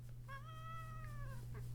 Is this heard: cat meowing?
yes